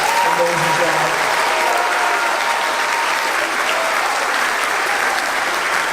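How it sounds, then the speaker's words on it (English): A school audience gives sustained, loud, dense applause for a 7th grade middle school chorus at a choir concert. "can we have another round of applause for the 7th grade chorus?"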